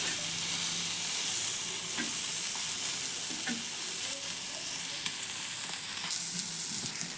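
Okra fries in a pan, a continuous dense sizzle with crackling pops and a few stirring scrapes, steady and close throughout, with no voices.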